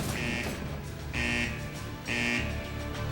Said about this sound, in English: which is why the alarms are going off and the lights are flashing